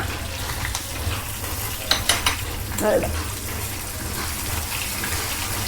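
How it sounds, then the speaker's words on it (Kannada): Mustard seeds and curry leaves sizzle in hot tempering oil for a chutney, giving a steady close frying hiss with a brief cluster of sharp crackles and pops partway through. "ಚಟ್ನಿಗೆ ನಾನು ಒಗ್ಗರಣೆ ಹಾಕ್ಕೊಳ್ತಾ ಇದ್ದೀನಿ ಸ್ವಲ್ಪ ಸಾಸಿನ ಹಾಕ್ಕೊಂಡು ಸಾಸ್ಮೆ ಚಟ್ಪಟ್ ಚಟ್ಪಟ್ ಚಟ್ಪ ಅಂತ ಅಂದ ತಕ್ಷಣ"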